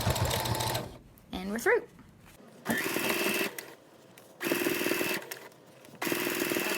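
A sewing machine drives its needle through thick surgical-mask fabric in loud, close bursts of whirring, starting and stopping several times, with a brief spoken remark in one of the pauses.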